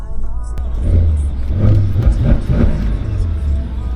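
A Mercedes-AMG engine in Sport Plus mode revs with a deep, close rumbling burble that swells and throbs over a few seconds.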